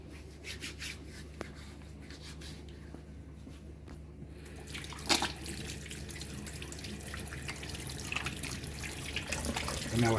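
A kitchen tap runs steadily into a sink while greens are washed for Jamaican pepper pot soup, a continuous faint splashing hiss with a few soft knocks and rubbing sounds, no talk.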